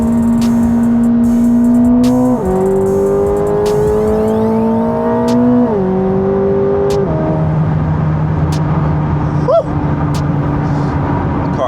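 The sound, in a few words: 1064 hp Corvette C8 ZR1 accelerating, exhaust sound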